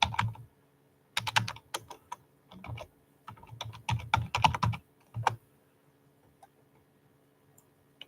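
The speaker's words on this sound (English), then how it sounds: "Let me type and see what other ones he has." Keys clack on a computer keyboard in close, crisp bursts of typing, a quick flurry of taps with short pauses between, then trailing off into near silence with only a few faint stray clicks.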